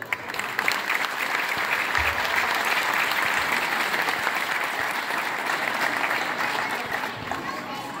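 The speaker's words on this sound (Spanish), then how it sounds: "Un gran aplauso para la señorita Ariana Villanueva Peñalosa." A school audience at a diploma and recognition ceremony gives sustained, steady applause for a student, a broad, even roar of many hands with crowd noise that holds throughout.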